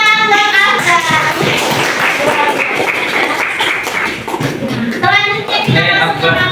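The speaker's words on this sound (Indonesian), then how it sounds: "Tepuk tangan buat Afgan." A classroom bursts into clapping, many hands tapping at once in a dense, steady patter, with children's voices mixed in throughout.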